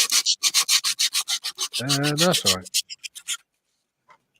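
Rapid rhythmic scraping of sanding, loud and close, with a brief spoken reply cutting in midway before the strokes stop and fade to quiet.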